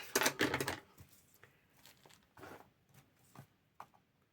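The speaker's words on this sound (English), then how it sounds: "So I'm going to cut it here like that." Paper being cut and handled while preparing a junk journal page, with a burst of crisp rustling and snipping at first, then scattered soft cuts and crinkles, close and quiet.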